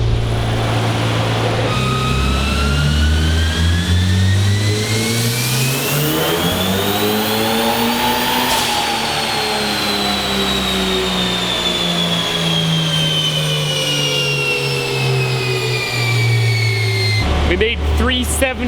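Built high-compression turbocharged 1.6-liter engine on a dyno, loud and sustained, climbing steadily to a high-pitched scream before dropping back, with a whining turbo over the engine's roar.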